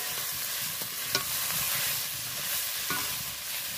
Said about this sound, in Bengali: আস্তে আস্তে নেড়ে চেড়ে ভেজে নেবে।